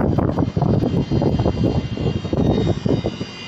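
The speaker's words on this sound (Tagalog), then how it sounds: "So ito na yung fan motor natin. Fan na siya." A replacement fan motor for a 5-ton LG package-type air conditioner runs with a loud, steady roaring whir, with rumbling fluctuations and a windy, airplane-like character throughout.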